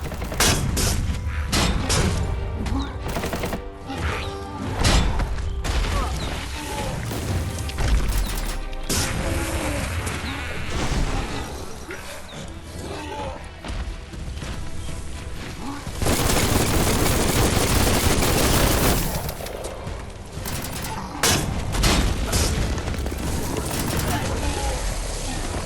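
Gunfire and explosions in the game Biomutant, dense rapid bursts and booms filling the whole stretch with heavy mechanical clatter, with occasional talk mixed in.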